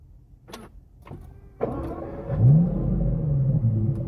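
A few faint clicks come first, then the starter catches and an Aston Martin DBS Superleggera's V12 fires up with a sharp bark and settles into a deep, rising idle rumble.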